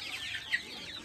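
A Rhode Island Red chicken clucks nearby in the Philippines, giving a brief run of soft, repeated clucks at moderate volume without voices.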